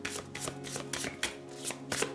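Oracle cards are shuffled in a steady run of quick, crisp riffles and flutters, about two per second, close and fairly soft, with no talking over them.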